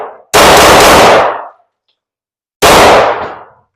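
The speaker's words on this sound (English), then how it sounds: "I haven't shot this all day, so it's my Glock 19X." Glock 19X pistol fired at a range: two loud, sharp shots spaced a couple of seconds apart, each with a ringing decay, no voices.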